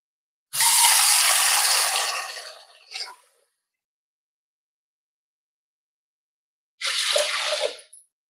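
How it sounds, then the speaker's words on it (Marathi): Water pours into a pressure cooker holding whole masoor lentils in two separate gushing bursts, the first long and tapering, the second shorter, with silence between. "यामध्ये आपल्याला पाणी घालायचं आहे."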